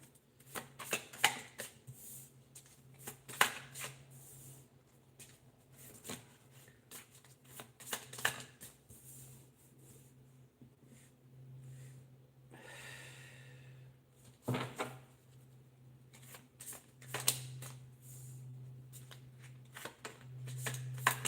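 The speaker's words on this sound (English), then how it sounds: "I'll pull the cards out for it now" Tarot cards are shuffled by hand in quick, soft riffling bursts separated by pauses, close and fairly quiet over a low steady hum.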